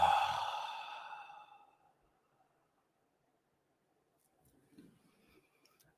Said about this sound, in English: Last one. Deep breath in